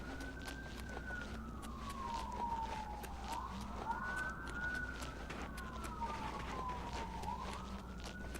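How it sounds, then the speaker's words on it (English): Wailing emergency sirens rise and fall slowly, heard faintly from outside in Montreal, Quebec, over a low steady hum, with several overlapping tones. "As you can tell with the sirens."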